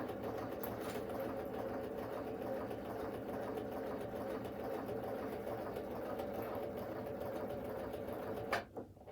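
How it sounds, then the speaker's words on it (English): Sewing machine running a stretch stitch, a steady close mechanical whirr and rapid needle chatter continuing for several seconds before it stops with a brief clunk. "this is a stretch stitch"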